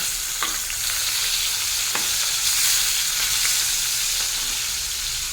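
Pona fish frying in oil: a loud, constant sizzle close by, with a few faint clicks from the pan. No voices.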